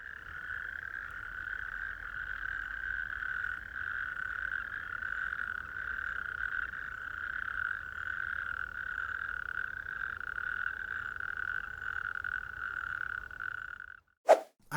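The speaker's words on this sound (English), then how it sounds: "I went out to find natterjack toads. And the first thing I heard were the toads" Natterjack toads calling at night on the coast, a loud continuous churring trill that holds steady throughout, ending with a brief sharp knock at the close.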